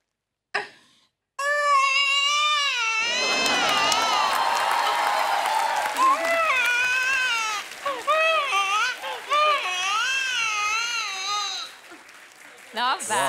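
A man on a comedy talk show stage imitates a newborn baby's crying with loud, wavering wails that go on for several seconds, while a studio audience cheers and applauds.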